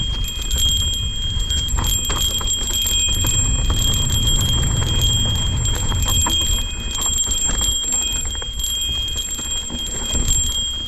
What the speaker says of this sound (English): this is a quick video clip of me using the timber bell in the North Georgia mountains on a descent so you can get an idea of what it sounds like